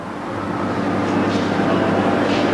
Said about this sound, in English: This is the Blue Train, which runs expensively between Pretoria and Cape Town.